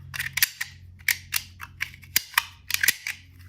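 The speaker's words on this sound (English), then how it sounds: "I think this is a Hubley Trooper cap gun" A Hubley Trooper toy cap gun fires in a series of crisp, close snaps at uneven intervals, each pop sharp and brief against a quiet background.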